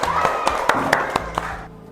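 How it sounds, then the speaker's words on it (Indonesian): A classroom of children claps in a quick rhythmic pattern, about eight sharp claps in a row, close and fairly loud over a low background hum. "tepuk tangan untuk kita semuanya"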